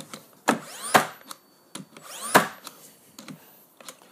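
A Bosch GNH 18V-64M cordless nailer drives nails into wood, giving several sharp separate bangs with whirring mechanical sweeps between them, close and irregularly spaced.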